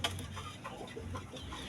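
A black pullet hen clucking nearby, a few short repeated clucks in quick succession at moderate volume.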